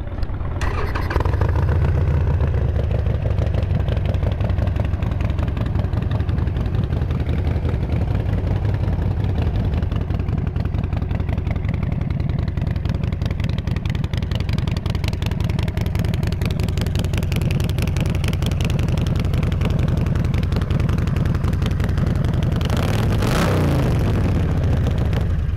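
A used Harley-Davidson Sportster 1200 Forty-Eight XL1200X motorcycle with low mileage runs loud and close, its steady V-twin idle thumping throughout with a brief rev swell near the end and no talking.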